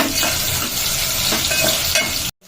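Mixed vegetables cooking in a pan with salt are stirred steadily, giving a continuous loud sizzle with soft scraping strokes throughout, close up, before stopping abruptly near the end.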